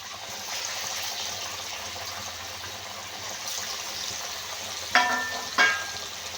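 Kalmi bora fritters fry in hot oil with a soft, steady sizzle, close but quiet, broken near the end by two brief louder splashes or clatters from the pan.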